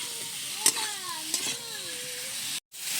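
Elephant foot yam curry with chili powder is sautéed and stirred in a pan, giving a soft continuous sizzle with a few spoon scrapes and brief clinks. A voice sounds faintly beneath, and there is a short gap near the end.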